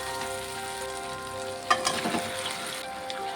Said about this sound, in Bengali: চিকেনটাকে দিয়ে সুন্দর করে কষিয়ে রান্না করে নেব মশলার সাথে।